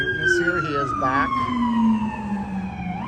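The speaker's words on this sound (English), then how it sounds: "Just another day in Vegas with those sirens" Emergency vehicle sirens wail on the Las Vegas Strip, a loud rising and falling tone with a second siren layered in early, sweeping steadily over street noise throughout.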